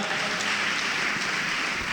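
Church congregation applauding loudly, a dense, steady wash of clapping filling the whole moment without pause.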